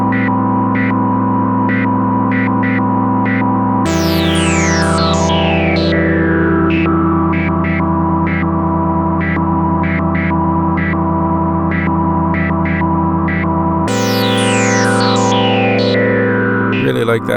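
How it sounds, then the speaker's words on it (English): A Moog Matriarch synthesizer holds a thick, glitchy pad as a slow filter envelope drives its resonant filter into long downward sweeps, twice over, while rhythmic stuttering blips pulse steadily on top, loud and close. "Really like that resonant filter glitchy sweep from the slow filter envelope"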